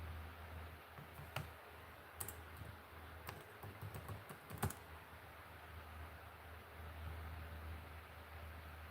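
Bursts of typing on a computer keyboard give quick clustered key clicks, close and clear over a steady background hiss, with no talking.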